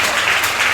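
Applause from a worship congregation acclaiming the Holy Spirit, a dense, loud burst of clapping hands filling a brief moment.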